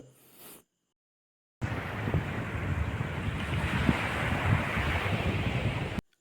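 Steady wash of sea waves and wind noise at Chavakkad Puthen beach, a constant loud roar beginning abruptly after a short silence and running on without a break.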